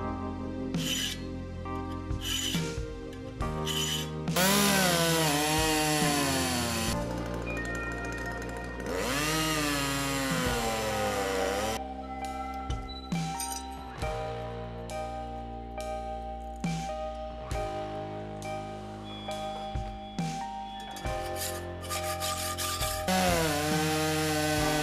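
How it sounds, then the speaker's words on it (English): A hand hacksaw cuts through angled metal stock for a homemade folding knife, starting in a filed notch. It makes steady, rasping back-and-forth strokes that continue close up throughout, with shrill ringing tones rising and falling over the sawing. "Filing a little notch always helps starting the hacksaw cut when the stock is angled"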